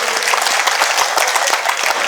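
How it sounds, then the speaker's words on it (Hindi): Steady applause from a large crowd, dense continuous clapping filling the space without a break. "आपकी आशीर्वाद की तालियां इन तक पहुंचे, बड़ी तालियां पहुंचे।"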